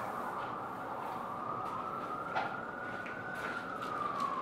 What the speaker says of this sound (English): I've opened the window and you can hear all the ambulances outside.